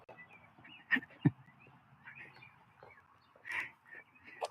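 Scattered bird calls and chirps, fairly faint, with a few sharper squawks and some soft background chatter.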